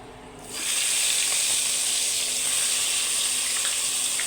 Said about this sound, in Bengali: তেলটা গরম হয়ে গেছে, এখন দিয়ে দেব মাছ